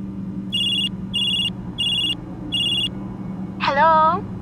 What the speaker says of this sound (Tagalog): nag-ring na bigla ang cellphone ko